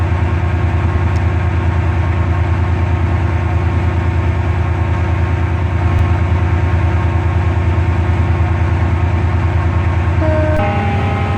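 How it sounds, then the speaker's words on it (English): Train engine idling loudly nearby at a station, a constant low, steady rumble with mechanical hum throughout, a brief tonal shift near the end. "Loud engine moment."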